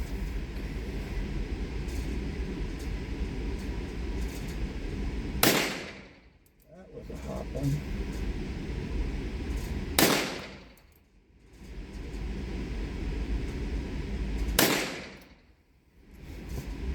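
A Smith and Wesson revolver fires three loud, sharp test-load rounds about four to five seconds apart. Each crack decays quickly over a steady background rush, and no voices are heard.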